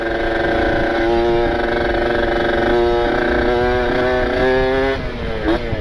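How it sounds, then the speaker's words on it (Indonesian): A Kawasaki Ninja two-stroke motorcycle engine with modified porting revs hard and close, a loud continuous buzzing drone that rises and dips in pitch across several throttle swells. "Motornya minta digas"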